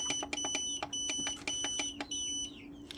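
Repeated sharp electronic beeps in quick bursts, a steady high-pitched tone pulsing on and off over a low hum.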